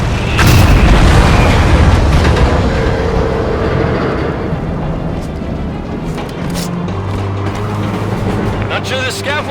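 Heavy explosion shockwaves in Halo 5: Guardians, opening with one loud, deep boom followed by rolling rumble and scattered smaller bursts and pops, with faint dialogue underneath.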